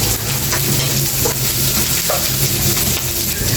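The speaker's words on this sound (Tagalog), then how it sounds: "ginisa ko na siya ng sibuyas," Kangkong greens sautéed with onion and garlic in a pan for pinakbet give a steady, fairly loud sizzle with light stirring scrapes, continuous and without talk.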